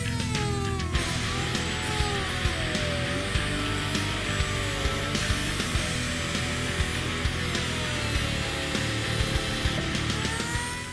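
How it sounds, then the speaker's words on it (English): A tool cuts through the factory plastic bumper cover of a 2015-2017 Mustang during a Roush quad tip exhaust conversion. The cutting is a continuous dense whine and rasp with gliding pitch changes and small repeated clicks, heard at moderate loudness. "This is going to have to be cut off our factory bumper cover to use the Roush quad tip conversion."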